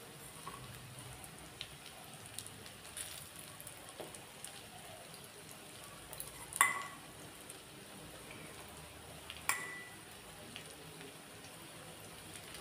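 Fish roe frying in a pan, a faint, steady patter of fine crackles with a few louder pops, no voices.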